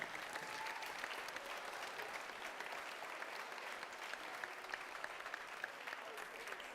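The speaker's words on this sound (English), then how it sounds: "Let's give Phoenix.exe another round of applause." Steady crowd applause fills the hall at a FIRST Tech Challenge robotics award ceremony, continuous and even with no break, heard at a moderate distance.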